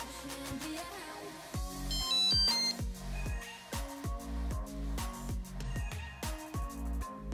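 A Lezyne Super GPS bike computer powers on with a short electronic chime, heard over a busy backdrop of rhythmic plucked or percussive tones that repeat steadily throughout.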